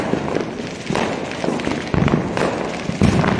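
Diwali firecrackers burst in a city night, several sharp cracks and thuds arriving at irregular intervals over a busy background, with a voice speaking faintly.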